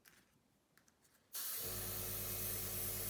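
Colour dye sprayed from a spray bottle onto hydrangea petals: after a quiet moment with a few small taps, a steady, loud, continuous hiss starts close by and holds.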